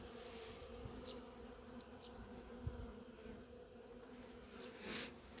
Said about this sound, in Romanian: Sunt plin de albine și aici jos.